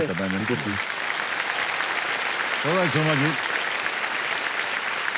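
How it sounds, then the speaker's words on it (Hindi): A studio audience on a Hindi television quiz show applauds, a steady broadband wash of clapping that runs the full length, with a voice speaking briefly at the start and again midway over it. "एक बार जोरदार तालियां हो जाएंगी।"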